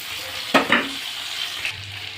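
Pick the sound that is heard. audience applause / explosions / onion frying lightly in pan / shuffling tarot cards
onion frying lightly in pan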